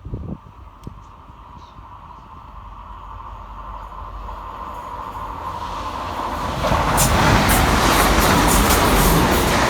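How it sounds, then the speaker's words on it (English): A TransPennine Express Class 185 diesel multiple unit approaches and passes fast through Deighton station, a low rumble building steadily into a loud, close roar of wheels and rushing air. "Flying fast through the station is 185 111, working 1P75 for Transpennine Express from Manchester Airport through to Redcar Central."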